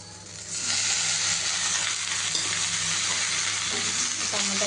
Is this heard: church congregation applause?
no